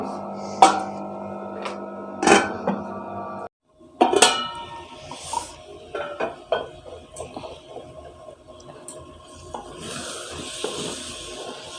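Metal spoon scrapes and clinks against a cooking pot as saag gosht, a spinach and fenugreek mutton dish, is stirred and fried, with irregular close-up clanks and sizzling between strokes.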